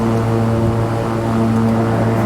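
A King Air 350 turboprop cruises in the X-Plane 11 flight simulator, its engines giving a steady, loud, droning hum with strong tonal propeller harmonics and no pauses, alone without talk.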